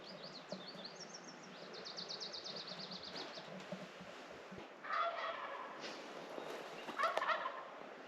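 Turkeys gobble in bursts outdoors, a rapid warbling run near the start and two louder, closer gobbles around the middle and end over faint background noise.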